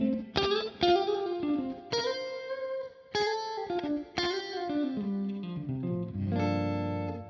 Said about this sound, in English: kind of doing like a blooming reverb, sort of like with a bit of delay